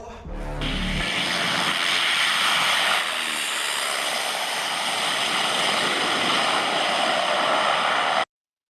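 A 1934 Aeronautica C3 vintage airplane with a tail skid takes off at a STOL event, its engine roar rising quickly to a loud, steady drone that holds for several seconds before cutting off abruptly.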